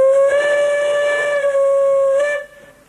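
Whistle of a restored steam locomotive on the Ocean Beach Railway, a loud, sustained, harmonically rich blast held steady for over two seconds with a hissy edge, then cutting off abruptly.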